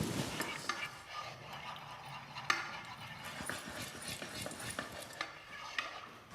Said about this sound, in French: je mélange à feu doux